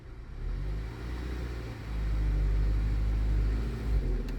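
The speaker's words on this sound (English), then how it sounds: "These cars only like to misfire when they're under load," An Audi B8 A4 engine runs under load in gear with a low, steady rumble that swells and holds after a couple of seconds, with slight unevenness and no voices.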